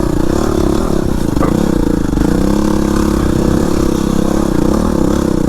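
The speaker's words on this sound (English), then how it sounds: "I'm making my way up the top of the hill with my WR250R and the Rekluse clutch" A Yamaha WR250R fitted with a Rekluse clutch drones loudly uphill, its engine holding a steady, close, buzzing pitch with small wavers as the rider climbs, plus light clatter from the terrain.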